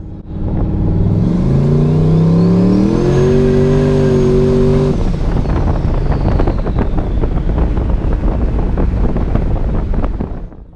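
A turbocharged Chevrolet Colorado pickup with an S480 turbo accelerates hard from around 30 mph in second or third gear on street tires, engine pitch climbing through a rising whine before a shift, then a loud rough roar under heavy wind noise.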